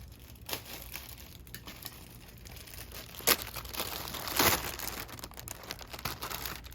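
Plastic packaging around a Honda Civic air filter crinkles and tears as it is cut open, with soft rustling broken by a few sharper crackles and rips, fairly faint and close, without speech.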